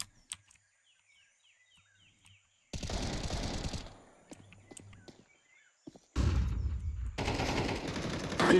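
Bursts of automatic gunfire in the Counter-Strike 2 match on the Ancient map, two long, loud sprays separated by quieter footsteps and gear rattles, with no talking over them.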